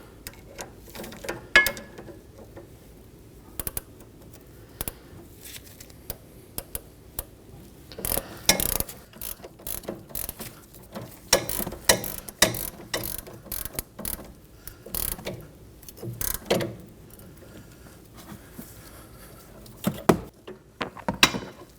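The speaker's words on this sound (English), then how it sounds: "Secure the stud with your wrench. And snug it down using your 15mm." A ratchet wrench clicks in short bursts while tightening a 15mm nut on a front sway bar link stud of a Ford Transit Connect, giving sharp repeated pawl clicks with quiet pauses between strokes, close and clear.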